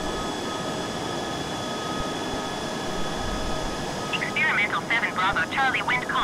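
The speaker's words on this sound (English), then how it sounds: "It's going to land on the left edge of the runway." An experimental aircraft coming in to land on a runway keeps up a constant broad engine roar throughout, with a voice speaking over it toward the end.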